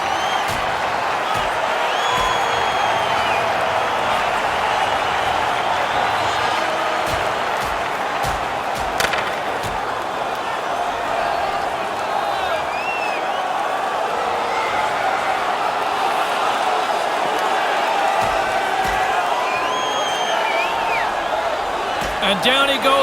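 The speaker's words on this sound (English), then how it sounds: "Crowd on their feet as they drop the gloves." A 1993 NHL playoff arena crowd in Quebec roars as players fight, a loud sustained cheer with whoops and board slams throughout, while a commentator talks over it.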